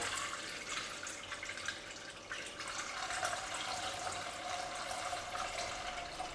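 Water pouring steadily into a cooking pot for a spicy pork leg soup, a continuous soft splashing rush that stays even and fairly quiet throughout, with no talking.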